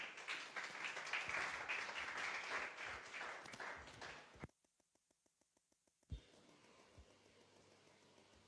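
A church congregation at a Sunday morning worship service claps together in a dense, fairly distant burst of applause that fades after a few seconds, followed by sparse low noises.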